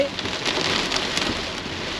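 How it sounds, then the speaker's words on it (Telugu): Rain pounds hard on a car stuck in traffic on a highway during flooding in China, a dense close patter with scattered louder drops throughout. "వర్షం అయితే మాత్రం గట్టి కొడుతుంది"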